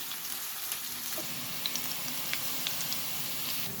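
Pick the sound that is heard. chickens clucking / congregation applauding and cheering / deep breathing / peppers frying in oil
peppers frying in oil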